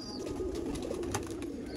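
Sialkoti pigeons coo softly in a low, continuous rolling murmur, moderately close, with a faint higher chirp and light background rustle.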